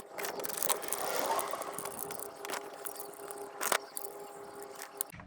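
A ratchet wrench clicks through uneven strokes while tightening mount bolts on a car engine during a water pump and serpentine belt job, close and quiet with scattered metallic knocks and handling sounds.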